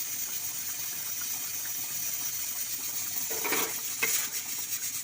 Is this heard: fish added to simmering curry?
yes